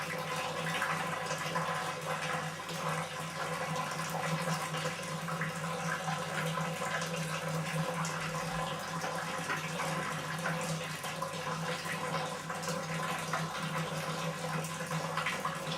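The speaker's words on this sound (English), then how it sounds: "let the water add in" Water pours steadily into malt in a home-brewing mash for an all-grain lager, a continuous rushing and splashing fill that runs unbroken throughout at moderate level.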